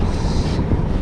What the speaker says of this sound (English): How good does this wind feel?